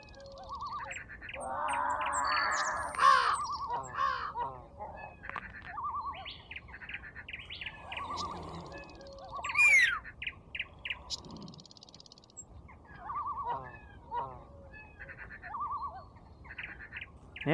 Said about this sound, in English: Yo, get out of here, birds.